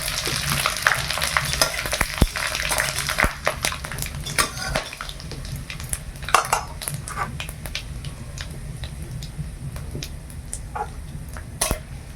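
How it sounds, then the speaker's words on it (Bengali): Spices crackle and sizzle steadily in hot mustard oil in a wok, with sharp clinks of a metal utensil against the pan scattered throughout, fairly close and loud. "কড়াই সরষা তেলটা গরম হয়ে গেছে, ফোড়ন দিয়ে দিই।"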